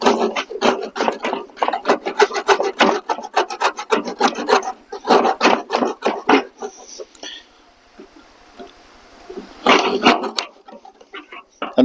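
A Gerber Gator 3 folding saw rasps through wood in quick, rhythmic back-and-forth strokes, pauses for a few seconds, then resumes with several more close, scratchy cuts.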